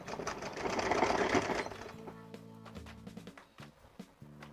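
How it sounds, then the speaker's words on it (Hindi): A sewing machine stitches a folded piece of leftover suit fabric, running in a fast, loud burst and then slowing into shorter, uneven stitching bursts up close. "इसके ऊपर भी हम सिलाई लगा देंगे।"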